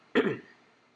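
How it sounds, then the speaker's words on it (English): A single short, close throat clearing, a brief rough burst that quickly fades into quiet. "I apologize for clearing my throat during the video."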